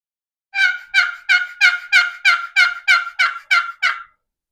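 A wooden turkey box call is worked to produce a clear run of about eleven evenly spaced yelps, loud and close, with silence around them and no talking.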